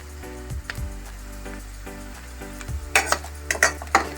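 Dried red chillies frying in oil in a pan for a gongura dried-prawn curry: a low sizzle with intermittent spoon-on-pan scrapes and clinks, which grow busier and louder toward the end.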